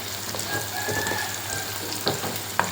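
Smashed drumstick pieces frying lightly in groundnut oil for a chutney, giving a soft, steady sizzle with a few sharp utensil taps near the end, close by and without speech; a faint rooster crow may sound in the background.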